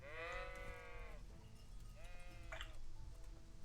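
Sheep in the video game Kingdom Come Deliverance bleating twice, a long wavering bleat followed by a shorter one, faint and fairly close over a low background hum.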